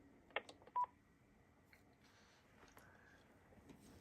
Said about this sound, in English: if I press pound to hang up, it'll do this